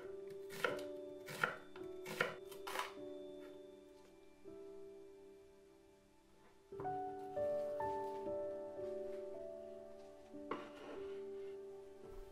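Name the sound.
knife chopping carrot and onion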